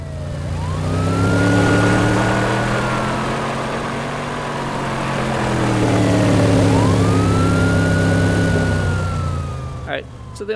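A synthesized car engine, built from a granular engine layer and a loop, revs up and down in two long sweeping swells, loud and close, before cutting off.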